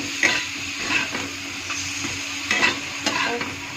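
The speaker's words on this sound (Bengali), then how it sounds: "আলুটা একটু ভালো করে নেড়ে চেড়ে" Potatoes frying in a pan and being stirred, a steady close sizzle with scraping and clinks of a utensil against the pan at irregular intervals, no talk.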